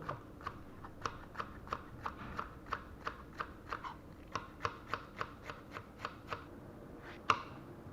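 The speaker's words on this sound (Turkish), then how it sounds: "Soğanın ardından biberlerimizi de ince ince kesiyoruz." A knife chops peppers finely on a board, about twenty quick evenly spaced taps at close range over a quiet background, with one louder knock near the end.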